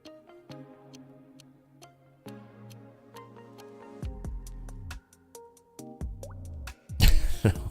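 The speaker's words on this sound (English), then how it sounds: "We need to put the water drop in there." Water drop sound effects inside a song, a series of bright plinking drips over sustained tones and low thumping bass, rising to a loud noisy burst at the end.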